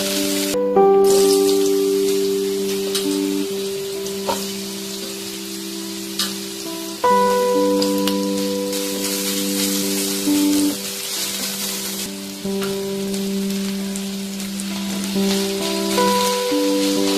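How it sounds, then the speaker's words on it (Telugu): Pieces of wood apple fry in hot oil with a steady, close sizzle, joined by sustained tonal background music and no talking. "ఈ ఏలక్కాయ ముక్కలను కూడా ఆయిల్లో మగ్గబెట్టుకోండి, ఫ్రై చేయాలి"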